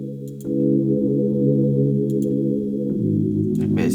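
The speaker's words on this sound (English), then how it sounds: "So I'm actually gonna layer it with some chords from analog." Layered synth chords from Analog Lab 4 sit over keys in an FL Studio Afro dancehall beat, sustained and steady, with the harmony changing near the end.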